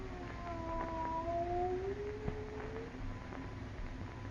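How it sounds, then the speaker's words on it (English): A cat's drawn-out, wavering yowls in a horror radio drama, several gliding cries over a steady hum of background noise, moderately faint. "It is a cat."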